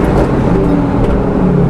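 A 225bhp Honda Accord Tourer engine pulls hard in fourth gear on a race track, a loud, steady, close-up drone of engine and road noise that holds throughout.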